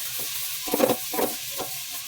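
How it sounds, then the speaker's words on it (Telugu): Grated carrot frying in a pan for carrot kheer, with soft broadband sizzle and a few brief louder stirring scrapes, moderately faint and close, with no talking. "పచ్చివాసన వెళ్ళే వరకు వేయించానండి నేను"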